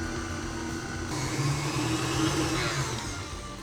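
An electric mixer whirs steadily through cookie dough with all-purpose flour, a constant motor drone with a slight rise in pitch and rough churning partway through, close and without talking.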